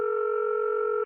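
A steady electronic phone tone, a pure sustained beep held for about a second before cutting off abruptly.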